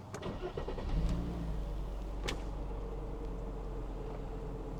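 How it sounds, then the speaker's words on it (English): A Mercedes S-Class engine cranks and catches, then settles into a smooth, steady idle rumble heard close up inside the car. "Listen to the car as it starts"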